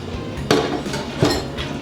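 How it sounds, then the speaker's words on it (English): Beef pot pie filling is spooned into a baking dish with two distinct clinks of the utensil against the dish, close and clear, over quiet kitchen ambience. "We're going to take our filling and go straight into our baking dish"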